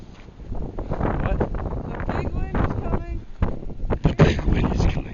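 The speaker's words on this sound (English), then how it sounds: "The big wind is coming." Strong, gusty wind buffets the microphone with a steady roar and rumble, while someone shouts and talks loudly over it throughout.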